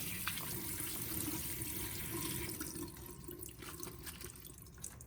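Water drains through a sieve from freshly rinsed food, a faint steady splashing and trickle that thins into scattered drips toward the end, with no voices.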